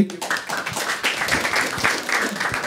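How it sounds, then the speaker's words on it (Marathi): A Marathi stand-up comedy crowd, live and close, clapping steadily for the whole stretch with dense overlapping claps and no pauses. "ठीक आहे हे तुला पैसे एकदा टाळ्या वाजवायच्या"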